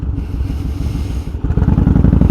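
A Yamaha Roadstar 1600cc cruiser motorcycle engine idles in a rough, loping low rumble that sags and nearly stalls, then picks up into stronger, pulsing beats, close and loud.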